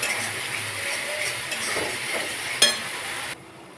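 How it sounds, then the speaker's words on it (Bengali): Masala spices frying in a pan with some dried chilli, a soft steady sizzle and crackle with a few light clinks of a stirring utensil, before the sound suddenly drops away near the end. "মশলাটা একটু ফ্রাই টাইপের হয়, বেশ সুন্দর হয়।"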